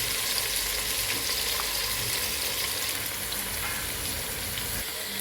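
Sliced onions, five of them, frying in hot oil in a pan for mutton biryani masala, giving a steady, dense sizzle that holds evenly throughout with no talk.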